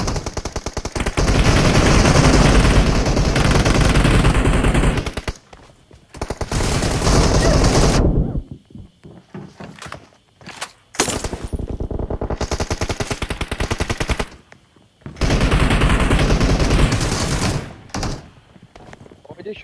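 Automatic gunfire from a PUBG Mobile team deathmatch, loud sustained bursts in several long stretches separated by brief pauses, with players talking over the action.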